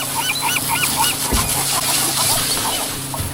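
Loud, crowded honking squawks from birds feeding on an offshore fishing boat, repeated overlapping calls close by with a single knock or thud partway through and steady engine or wind noise underneath.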